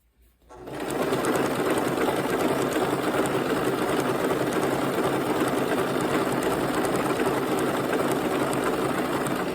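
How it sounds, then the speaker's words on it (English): A small sewing machine starts up and then stitches a jelly roll quilt in one continuous, even, fast whirring run that lasts to the end, with no talking. "this little sewing machine has a"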